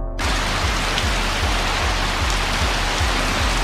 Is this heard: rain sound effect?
yes